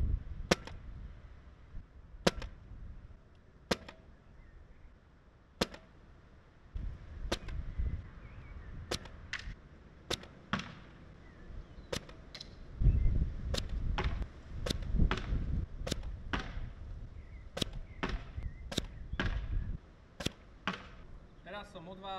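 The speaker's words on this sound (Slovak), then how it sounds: "Jediné, čo som počul, je jak letí gula" Storm PC1 airsoft replica fired repeatedly on an outdoor range, giving a long series of quiet, sharp clicks at irregular intervals, each followed by a soft whoosh of the BB flying, with low rumbling handling noise between shots.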